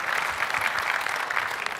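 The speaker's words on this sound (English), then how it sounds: "Give yourself a round of applause." A conference session audience at Build 2014 claps continuously, a thick even patter of many hands at moderate loudness with no pauses.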